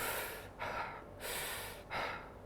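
Fast, forceful breathwork exhalations through the nose come in a quick sequence of about four sharp, close puffs, each one a hissing burst with brief pauses in between.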